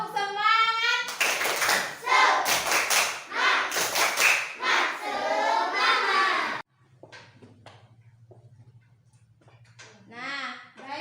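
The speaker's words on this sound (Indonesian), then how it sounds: "Tepuk semangat." Schoolchildren in a classroom perform a rhythmic spirit clap, loud sharp bursts of clapping in patterned groups mixed with their chanting voices, followed by quieter talk and a low hum.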